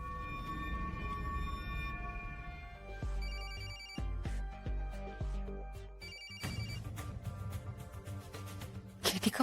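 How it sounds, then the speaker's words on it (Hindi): An electronic phone ringtone plays a repeating melodic pattern, loud and close, over a busy mix of other noises. "केटी का फोन।"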